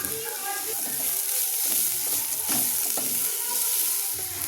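Bottle gourd peel frying in a pan with salt, turmeric and sugar, a close, steady sizzle broken by scraping stirs, loud and continuous without talk.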